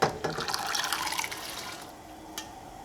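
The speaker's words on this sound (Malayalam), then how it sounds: "ഇതിലേക്ക് നമ്മൾ വേവിച്ച് വെച്ചേക്കണ കടല ചേർക്കാം" Cooked chickpeas and their water poured into masala in a pan for Kerala kadala curry, giving a short splashing pour with liquid trickles that fade, close and alone.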